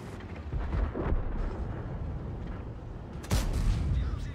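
A tank cannon fires in an armored-combat video game, a deep booming blast around the middle, then a second heavy report near the end, each with a rumbling tail over steady low engine and battlefield rumble.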